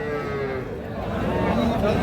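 A young native heifer calf at a cattle market gives a drawn-out, hoarse moo over steady outdoor noise, close by and fairly loud.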